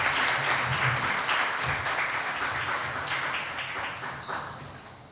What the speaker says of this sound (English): I think we can have a better round of applause for that